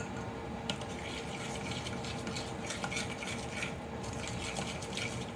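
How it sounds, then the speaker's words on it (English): A cornstarch mixture stirred in a pot, a continuous soft scraping and swishing with light utensil clinks, close and steady, with no voices. "So just keep stirring this until you get it all incorporated."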